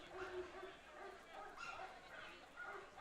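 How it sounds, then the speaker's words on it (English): Recorded dog barking and yipping is piped over the stadium speakers at a baseball game, repeated barks and whimpers ringing out at moderate distance over steady crowd and ballpark ambience. "Willie's piping in a lot of the barking sounds now, trying to motivate Liam Golden and the fan base."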